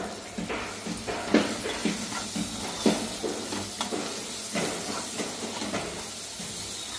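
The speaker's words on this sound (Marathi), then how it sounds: "आता बटाटे थोडे फ्राय करून घ्यायचे ना" Potatoes fry in a spicy cashew gravy, giving a continuous moderate sizzle and hiss broken by repeated scraping strokes of a spoon against the pan at an irregular pace, with no one talking.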